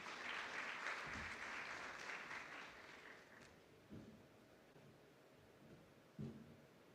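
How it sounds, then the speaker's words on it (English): Audience clapping as a bank CEO walks to the stage at an app launch event, a faint, steady wash of applause that fades out, leaving a quiet hall with a few soft knocks. "We can clap for him as he comes."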